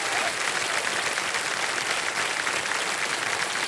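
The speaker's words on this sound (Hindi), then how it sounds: "तालियां बज जाए जोरदार उनके लिए" Studio audience applause on the KBC quiz show, greeting a contestant's win: a steady, even wash of many hands clapping that fills the whole few seconds with no pause.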